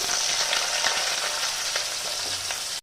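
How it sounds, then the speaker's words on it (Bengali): Pumpkin pieces frying in very hot mustard oil, a dense, even sizzle and crackle held close and loud throughout, cutting off abruptly at the end, with no voices. "সর্ষের তেলটা কিন্তু একদম গরম হয়ে গেছে এবার আমি এখানে মিষ্টি কুমড়োগুলোকে দিয়ে দিচ্ছি"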